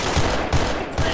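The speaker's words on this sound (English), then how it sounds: "I'll do a bit more of the shooting" Burst of gunfire in Garry's Mod DarkRP, three quick loud shots spaced evenly in rapid succession, close and sharp.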